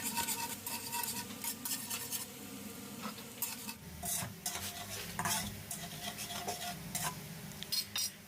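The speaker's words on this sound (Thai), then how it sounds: "เมื่อน้ำมันเริ่มร้อนได้ที่แล้วก็ใส่กระเทียมลงไปผัดเลยนะครับ ผัดให้เหลืองหอมเลยนะ" Garlic stir-fried in hot oil in a wok, with a spatula scraping and clinking against the metal over a steady close sizzle that continues throughout.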